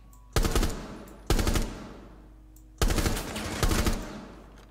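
Gunfire in the tactical shooter Rainbow Six Siege, heard as four loud, close bursts of rapid shots with short pauses between them and no talk.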